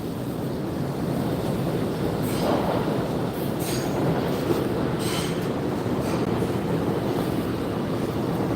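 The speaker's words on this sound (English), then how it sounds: "This is a 207th Street bound A express train." A New York A express subway train rumbles steadily along the rails with rhythmic clatter and occasional high wheel squeals, heard from inside the car.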